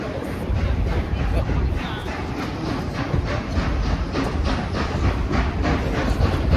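NKP 765, a steam locomotive pulling an autumn excursion train, rolls across a bridge: a steady loud rumble with rhythmic clanking wheel beats throughout, heard up close.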